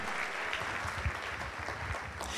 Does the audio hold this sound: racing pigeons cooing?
no